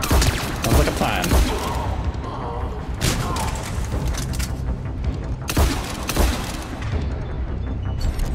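Submachine gun fire in Mass Effect 3, with rapid bursts of shots, heavy booms and mechanical clatter layered over game sounds, loud and continuous, with some voice underneath.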